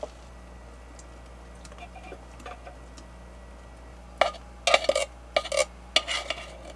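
Knife spreading butter on slices of bread for toasties, a few soft scrapes followed by a run of quick, crisp scraping strokes close by, with a faint low hum underneath.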